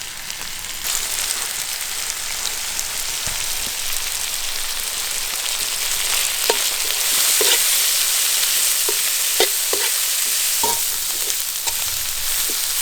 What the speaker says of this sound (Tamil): வேக வச்சு எடுத்த காலிஃப்ளவர் சேர்த்துக்கலாம் இடித்து வச்ச மசாலா தூள் சேர்த்துக்கலாம்